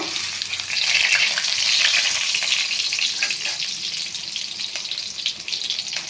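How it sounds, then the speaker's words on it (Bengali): Stuffed pointed gourd (potol) frying in hot oil in a kadai: a loud, steady, close sizzle that swells briefly early on and then holds constant, with no voices. "ওগুলো আস্তে আস্তে তেলের মধ্যে ছেড়ে দিলাম। এটা একটু সাবধানে ভাজবেন, যাতে পুরটা বেরিয়ে না আসে।"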